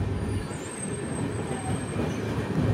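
The Visakhapatnam Weekly SF Express (22802) rolls slowly over a stretch of track under repair near Tenali Junction, with a close, steady rumble of wheels on rails and a faint high wheel squeal.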